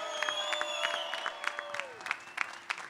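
Scattered audience applause at an outdoor live jazz concert, with uneven claps and a few cheers while lingering tones fade, some distance from the listener.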